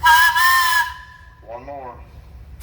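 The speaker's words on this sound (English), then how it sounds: "How about a whistle, Emily?" A scale steam traction engine sounds its whistle, a loud steady tone that cuts off, followed by a quieter, wavering whistle-like sweep and a brief return of the blast at the very end.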